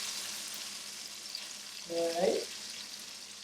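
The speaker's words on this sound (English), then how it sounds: "You hear the sizzle?" Steady, fairly quiet sizzling of onions frying in a pan, with a brief stirring scrape and a short spoken word partway through.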